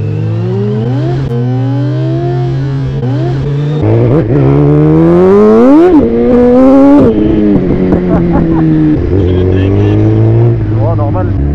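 Reprogrammed 212 hp 2020 Suzuki GSX-R 1000 R motorcycle revving hard and accelerating up through the gears, with a loud, close, snarling exhaust rising and falling between shifts and excited voices over it.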